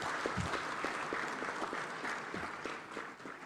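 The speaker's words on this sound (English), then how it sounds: "Let's give our Papa another round of applause." An audience at an African inter-parliamentary conference in Ghana applauds, sustained clapping from a large room that holds steady and then tapers slightly toward the end.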